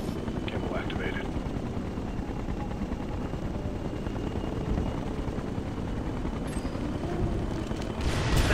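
Helicopters approach in the game Ghost Recon Future Soldier, a continuous low rotor rumble that holds steady and swells slightly near the end, with voices speaking over it and brief scattered sharp sounds.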